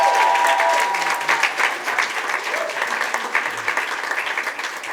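A church congregation applauds, loud continuous clapping that fades slightly toward the end, with a few voices faintly mixed in.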